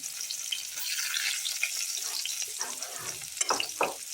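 Chopped onion, with a little salt, frying in a pan. A soft hiss of sizzling rises and falls, with a few clustered stirring scrapes toward the end.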